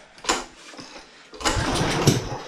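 A Husqvarna lawn mower engine sputters and pops in short bursts as it tries to start, then catches into a rougher, sustained running sound, close by.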